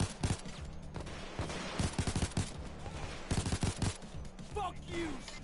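Gunfire from the heist video game Payday 2, bursts of rapid shots clustered in several volleys over steady game noise, with talk mixed in.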